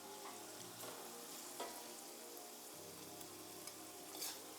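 Beans stir-fried with sweet corn in a pan, a soft continuous sizzle with occasional scraping stirs and light clatter, fairly quiet with no talk.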